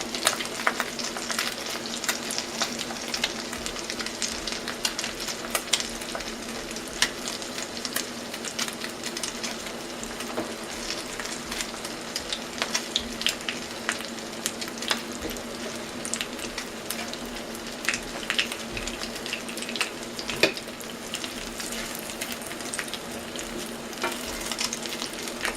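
A cheese omelet cooks in a pan over medium heat, sizzling and crackling steadily and close by throughout, with no voices.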